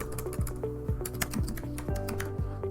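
Fingers tap quickly across a computer keyboard, a close run of crisp, fairly even keystrokes with no voice over them.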